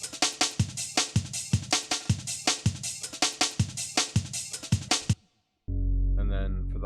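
Processed jungle drum break run through compression, overdrive and reverb: a loud, punchy looping pattern of booming kicks and crisp snares in a fast steady rhythm, then it cuts out briefly before a short dense bass-heavy burst.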